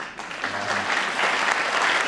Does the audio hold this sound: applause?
yes